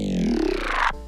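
Gritty Growl synth preset played dry with no post processing: a single buzzy, harmonically rich growl sweeping upward in pitch for about a second, then cutting off abruptly into a thinner tail.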